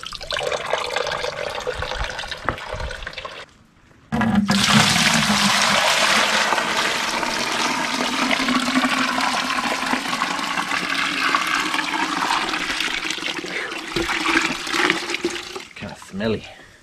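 Brown, rusty coolant draining from the radiator of a 1973 GMC C2500 during a coolant flush, a sustained loud rushing gush of liquid after a brief lull, with voices talking around it.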